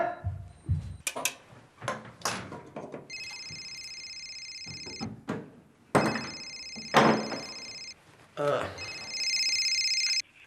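A telephone rings in several bursts of electronic trilling, separated by pauses filled with clatter and thumps nearby.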